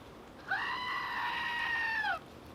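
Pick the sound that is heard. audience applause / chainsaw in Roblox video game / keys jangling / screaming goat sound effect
screaming goat sound effect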